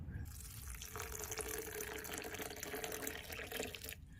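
Running tap water splashes steadily as drumstick flowers are rinsed in warm water in a kitchen sink, a continuous close wash lasting nearly the whole moment before falling quiet.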